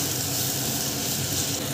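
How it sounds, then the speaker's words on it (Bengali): Potato pieces frying in oil with turmeric and chili powder for a vegetarian cabbage dish, a dense, constant close sizzle and hiss with no speech. "দিয়ে এটাকে আমি ভেজে নেব।"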